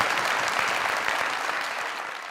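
An audience applauds a young man after he recites shayari, a dense burst of clapping that fills the clip and slowly tapers toward the end, with no voices over it.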